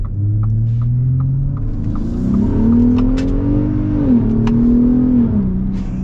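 A 2023 Ford Raptor pickup accelerates with a steady, throbbing engine rumble that rises in pitch, then drops briefly at a smooth gear shift before climbing again. The sound is close and continuous from inside the truck.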